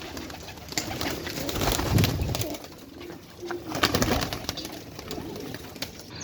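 Pigeons cooing steadily in a breeder's loft, soft repeated low coos overlapping at moderate distance with a constant background hiss, no talk.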